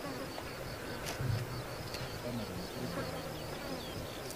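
Mosquitoes buzz in the Siberian taiga, a thin, steady whine hovering close around the listener with a few louder passes, over a constant hum of insects and soft outdoor background, no talking.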